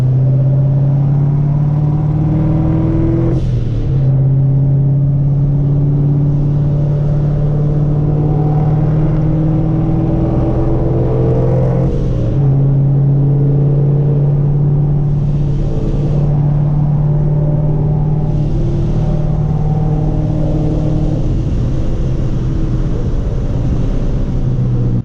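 Street racing cars in Mexico, one likely twin-turbo on 110-octane race gas and others on E85, heard as a loud, steady engine drone with rising pitch sweeps as revs climb, punctuated by sharp shift breaks.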